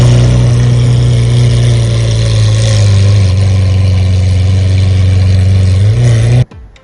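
A 2013 Lamborghini Aventador LP 700-4 V12 idles close by with a loud, steady low burble and a slight swell in revs partway through, cutting off abruptly at the end.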